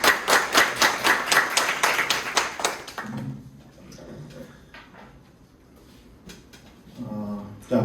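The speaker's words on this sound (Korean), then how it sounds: "큰 박수 부탁드립니다" Applause from an audience at a Korean sports-management society team launch ceremony: a burst of dense clapping for about three seconds, then fading into scattered claps and room noise with faint talk.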